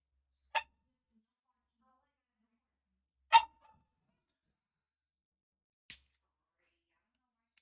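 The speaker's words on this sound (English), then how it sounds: "Dog's barking, but it's cool" Three short, separate barks from a dog somewhere off in a quiet room, spaced a few seconds apart with silence between them.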